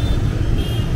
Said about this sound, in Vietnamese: Đây đang có một chiếc ô tô đang quay đầu khá là to luôn